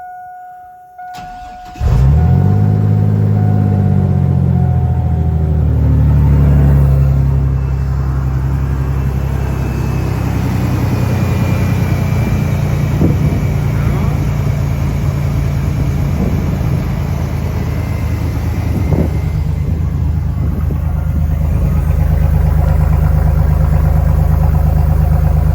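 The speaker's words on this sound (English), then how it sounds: "Cold start, first start after the throttle body mod." A 2001 Chevrolet S10 engine cold-starts after a throttle body modification, the starter cranking briefly before it catches and settles into a loud, steady idle close by that holds for the rest of the stretch without talk.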